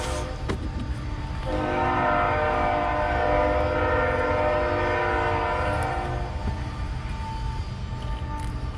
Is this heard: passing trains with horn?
yes